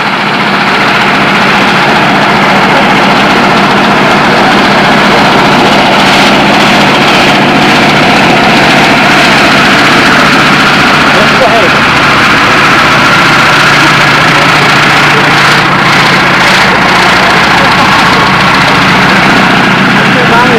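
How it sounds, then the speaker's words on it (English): A running engine at a 1996 reunion at George Field, a WW2 military airfield in Illinois, sounding as a loud, steady idling drone that holds throughout, with voices talking over it. "That's a good sounding engine."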